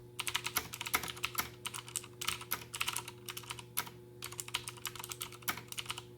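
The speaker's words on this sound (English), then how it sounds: "Just a sample of me typing without bottoming out." Gamdius Hermes Lite mechanical keyboard with light, Cherry MX Red-like switches, typed on without bottoming out: a quiet, steady stream of soft, rapid key clicks with short pauses between bursts.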